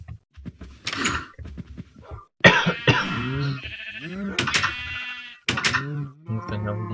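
Sheep bleating in the Minecraft video game, several loud close bleats in a row with short gaps, mixed with a cough-like sound and a door thud.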